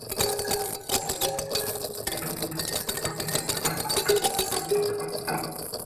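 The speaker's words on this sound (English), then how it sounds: "I've kind of just pitch shifted it, and you get these really interesting kind of tonal pitch shifted structures" A pitch-shifted toothbrush recording gives a dense, buzzing, rattling texture with faint tonal ringing, continuous and close throughout.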